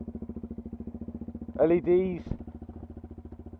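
A 2020 Sinnis Terrain 125 motorcycle idles steadily with a fast, even pulsing putter throughout, close by, while a voice talks briefly over it in the middle.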